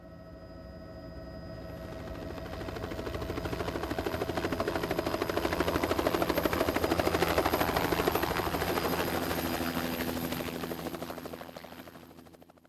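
A helicopter flying over an oil field makes a steady, dense rotor thump and turbine roar that swells as it draws closer, peaks, then fades slightly, with no talking.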